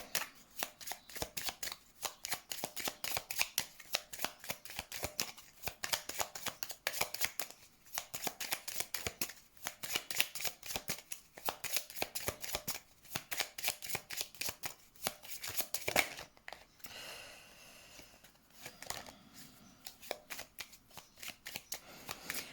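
Tarot cards shuffled over and over in a dense, continuous flutter of papery riffles and slaps, close and steady, easing into softer sliding near the end, with no voice.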